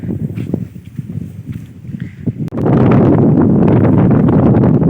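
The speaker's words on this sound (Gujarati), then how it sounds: "પવન પણ ઉપડો છે બહુ" Gusty wind buffets the microphone, with low rumbling and scattered knocks, turning into a steady, loud roar halfway through.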